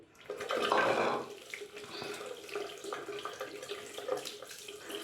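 Shaving gear rinsed under a running tap, with a steady close stream of water splashing loudest at first, then continuing at a lower, even level with small clinks and splashes.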